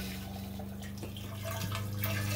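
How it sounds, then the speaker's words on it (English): A Dometic 320 RV toilet flushes with antifreeze still in the bowl, giving a steady close rush of running water and a low hum that holds through the whole stretch. "We'll hit the flush."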